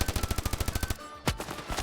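Rapid automatic gunfire in a video game, a fast burst of about ten evenly spaced shots, loud and close, followed by a single heavier shot after a short gap.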